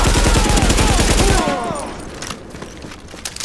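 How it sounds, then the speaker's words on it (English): Gunfire in The Division video game as enemies are shot: a loud, dense burst of rapid shots in the first seconds, then scattered quieter reports and impacts trailing off, with a voice briefly audible. "Let's just shoot these bad guys."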